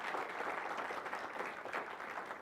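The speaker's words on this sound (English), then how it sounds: "Let's give them all a big round of applause." Audience at a church service applauding artists, with dense, steady clapping from a room full of people, fairly soft overall and with no voices.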